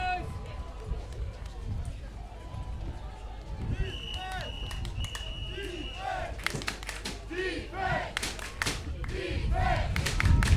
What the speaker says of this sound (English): French crowd getting behind their teammates